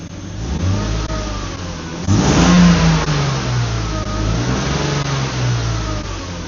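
A BMW E36 323i engine, cold and warming up, revs sharply near the middle and then settles into a steady, throaty run, loud and close with no voices.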